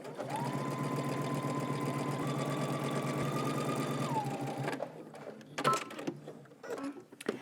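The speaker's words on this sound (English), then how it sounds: "we're gonna go ahead and understitch our lining" A sewing machine steadily understitches a garment lining close to the edge, whirring evenly for several seconds, shifting pitch once, then stopping, followed by soft fabric handling and clicks.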